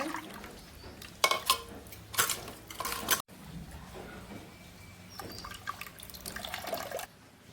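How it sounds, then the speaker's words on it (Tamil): Dissolved tamarind water for a traditional fish curry is strained, giving bursts of liquid splashing and trickling in separate pours with short pauses, close by and moderately loud. "பழப்புளியை வடித்து விடுறேன் கரைச்சி"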